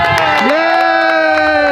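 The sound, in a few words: crowd applause and cheering for chili eating contest contestant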